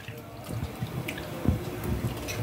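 Water runs and splashes while cauliflower is washed in salt water in a home kitchen, a steady close trickle with small drips and splashes, no talking.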